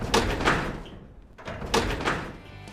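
A temperamental garage door, shut since 2007 on a Morris Mini Traveller, is wrenched open in two bursts of scraping, thumping rattle with a brief pause between, close and fairly loud.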